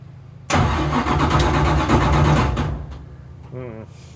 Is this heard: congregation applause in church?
no